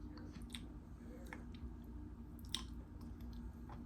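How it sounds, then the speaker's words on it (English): Someone chews a small taste of pepper puff puff dough, soft wet squishy mouth sounds close and quiet, with a few faint clicks scattered across a low background hum. "call me crazy, but I like to taste my dough"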